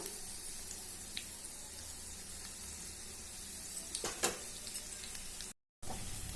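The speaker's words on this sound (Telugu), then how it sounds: "చూడండి పునుగులు అయితే వేగినాయి" Sago punugulu fritters frying in hot oil, a constant close sizzle with a couple of brief clinks and a short gap of silence near the end, no talking.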